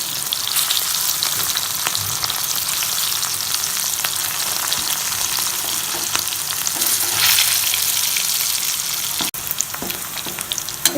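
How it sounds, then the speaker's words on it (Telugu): Bitter gourd pieces deep frying in hot oil, giving a loud, steady, close crackling sizzle that runs unbroken with no voices. "ఇవి డీప్ ఫ్రై చేసుకొని కొంచెం బ్రౌన్ కలర్ వచ్చేంత వరకు డీప్ ఫ్రై చేసుకోవాలి."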